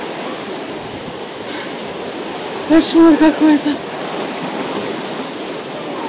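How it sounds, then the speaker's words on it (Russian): Heavy rain and strong wind outside a house, watched from a veranda: a steady broadband rush of downpour and gusts throughout, with a few short louder bursts midway and a person speaking briefly over it. "Дождь."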